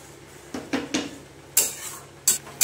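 A spice paste is stir-fried in a pan for a radish curry, with a spatula scraping and knocking the metal several times in uneven strokes, close and moderately loud, against a faint background hiss.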